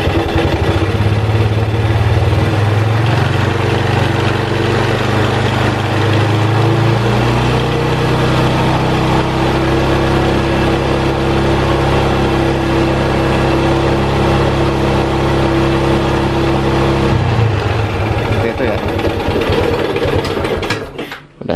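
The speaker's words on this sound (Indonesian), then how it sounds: "Kita coba nyalakan lagi motornya. Kita tarik gas." Motorcycle engine running steady and loud, held at higher revs on the throttle for a long stretch, then dropping back and cutting off near the end. The machine is being checked for battery overcharging.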